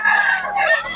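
A single rooster crow rings out close and loud at a poultry market in Bocaue, Philippines, a short strained call with no other sounds around it.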